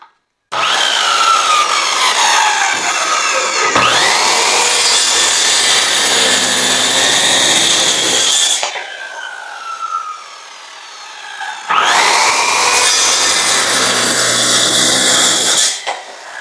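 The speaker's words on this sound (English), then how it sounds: "this thing is going to be taxing for this little cheap Craftsman saw to cut through" A small, cheap Craftsman saw cuts through 1.5-inch hard maple. It makes two long, loud bursts of harsh, grinding sawing noise with a quieter pause between them.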